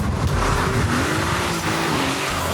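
A BMW E36 accelerates hard from a standing start, its engine roaring loud and close as the revs climb steadily, with a faint squeal from the tyres.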